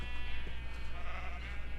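A baby sheep in the Minecraft video game bleats with a wavering, nasal cry lasting nearly two seconds, steady and fairly close over a constant low game hum.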